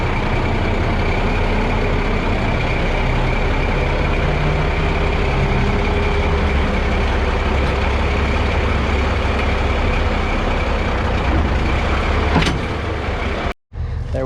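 A truck backs up to hook onto a 1979 dump trailer, its engine running as a loud, steady rumble close by, with a brief drop near the end.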